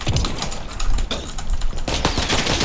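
Shotgun fire in the video game XDefiant comes as a dense, loud string of close, sharp blasts, crowded together with only brief gaps.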